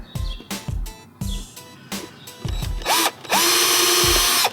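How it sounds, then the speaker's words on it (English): A power drill with a 1/16 inch bit drills shallow pilot holes for hinges in an arcade control panel, whirring in several short bursts, starting and stopping repeatedly, then longer higher-pitched spurts at the end; close and loud. "I'm going to take a 1/16 inch drill bit and then I'm going to drill pilot holes"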